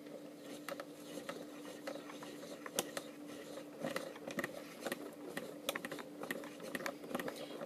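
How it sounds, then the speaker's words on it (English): Hornady hand case trimmer cutting the mouth of an ammunition case, a quiet close-up run of scraping, ratcheting clicks and sharp metallic ticks in an irregular rhythm over a faint steady hum. "we're just going to bring our cutter into the case mouth, and it's going to cut a predetermined amount off of the end of the case mouth"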